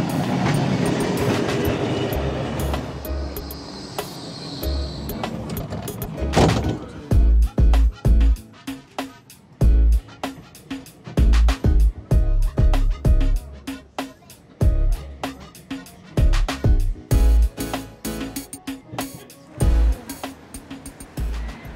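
A Blackpool tram rumbles in and slows at a tram stop, followed by a series of rhythmic clunks and clacks over the rails, loud and close.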